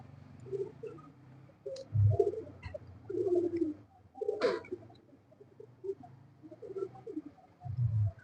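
Strong rooftop-kept pigeons coo in low, throaty bursts at close range, a handful of rolling calls spaced a second or two apart over quiet background, with one sharp click midway.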